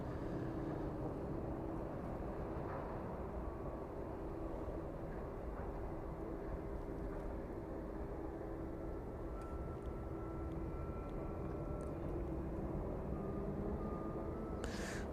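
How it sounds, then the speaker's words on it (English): An aircraft climbs out of East Midlands Airport bound for Brussels, a low, faint engine rumble with a thin steady whine that lasts throughout, far off and without voices. "And there it goes, departing East Midlands this evening, making its way off to Brussels."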